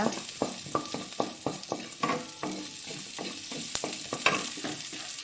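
Six garlic cloves sauté in oil in a pan for a Tamil tomato chutney, a steady close sizzle broken by regular sharp scrapes and clacks of a spatula stirring, with no speech over it.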